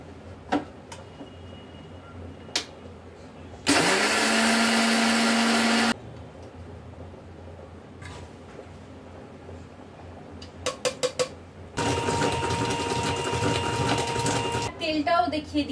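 An electric kitchen mixer grinds sugar into powder in two loud, steady whirring bursts of about two and three seconds, separated by quieter handling noise and clicks, with someone talking throughout.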